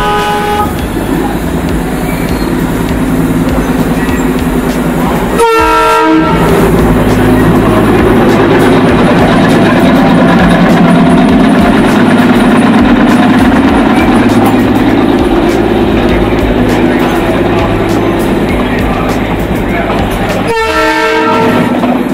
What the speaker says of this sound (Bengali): মূলত টয় ট্রেন এ পর্যন্তই আসে